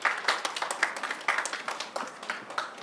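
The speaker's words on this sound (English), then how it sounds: "Clap for him." A classroom group claps for a student, a short burst of brisk, uneven hand claps from a small crowd, fairly close and without talk.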